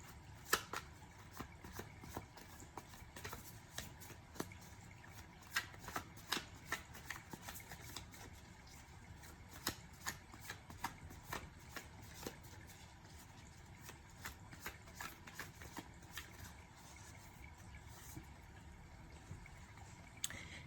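Tarot cards being shuffled in a quiet room, a long run of soft, rapid riffling and flicking with irregular sharp clicks, fairly faint and with no talking.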